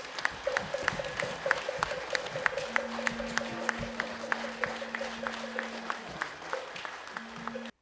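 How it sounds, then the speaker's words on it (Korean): Audience applause greets the arrival of a Korean Buddhist Taego Order leader at a ceremony: steady, moderately loud clapping runs throughout, with a sustained tone and some sharp ticking pulses audible over it. "뜨거운 박수로 환영해 주시면 감사하겠습니다"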